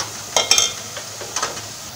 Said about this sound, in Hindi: इसको भूनूँगी इसके अंदर डाल के,